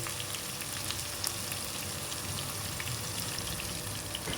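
Ground spice mix and coriander powder frying in a pan, a steady close hiss of sizzling oil with faint crackles throughout, no voices.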